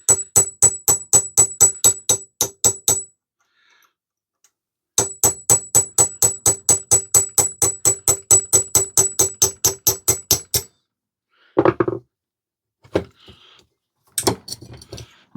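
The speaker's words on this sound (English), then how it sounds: "Let me just use a punch." Steel punch struck with a hammer against a cast iron cylinder head for a Stuart Turner generator: two long runs of fast, evenly spaced metallic taps, close and loud, broken by a pause, then a few scattered clunks near the end.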